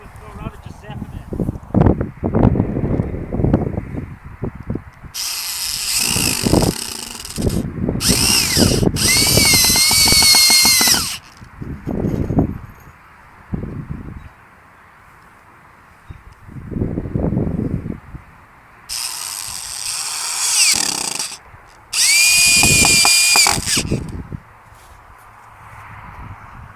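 A power drill drives screws into the frame of a cheap meat chicken pen outdoors, whirring loudly in two pairs of long bursts with pauses between, while a person talks in the quieter stretches and light wind noise runs underneath.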